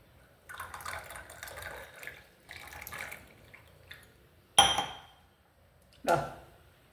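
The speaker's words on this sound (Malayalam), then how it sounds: "ശംഖുപുഷ്പത്തിൻ്റെ ചായ ഒഴിക്കാം" Butterfly pea flower tea poured into a glass, several short bursts of trickling liquid at close range, followed by two louder, sharper pours near the end.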